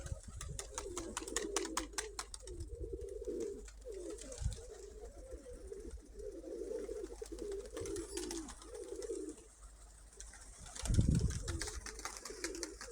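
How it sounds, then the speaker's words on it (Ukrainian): Pigeons coo repeatedly in low, throaty rolling calls during April mating season, close by, with a few soft flutters and outdoor background noise between the phrases. "саме гон голубів."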